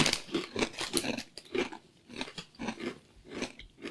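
Crunching bites of baked red pepper pitta chips, a quick series of crisp, crackly chews in an irregular rhythm, close and fairly quiet with no talking.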